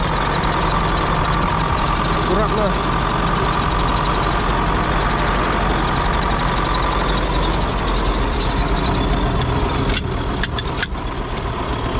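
A tractor engine idles after a long struggle to get it started, keeping up a steady, close, rumbling and knocking drone throughout. A brief spoken word is heard over it near the end.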